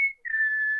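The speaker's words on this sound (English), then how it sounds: "I just hear that whistle in my dreams" A short two-note whistled tune, the eerie motif from a Walking Dead episode, clear and close: a brief high tone, a tiny gap, then a longer steady note.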